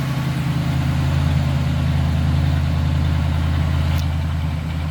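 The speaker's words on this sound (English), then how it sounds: "Nice smooth running small block Chevy." A small block Chevy engine in a 1939 Plymouth sedan street rod idles smoothly and steadily from close behind the car, a deep, even rumble with no talking.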